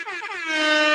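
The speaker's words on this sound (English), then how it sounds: "This air horn goes out to you just for waking up and for tuning in" A single air horn blast, loud and sustained for about a second, swelling slightly as it holds, with no talk over it.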